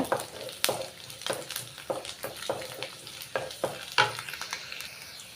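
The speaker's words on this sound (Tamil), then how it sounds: "பூண்டு பாருங்கள் முக்கால் பாகம் வந்து நல்லா வதக்கிட்டேங்க எண்ணெயில்" Garlic sautéing in oil in a pan, stirred with steady scraping strokes over a continuous soft sizzle, close by and with no talking.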